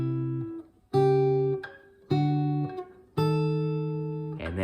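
Acoustic guitar playing a song's chord sequence, four ringing fingerpicked chords with clear pauses between, close and clean, with no talking.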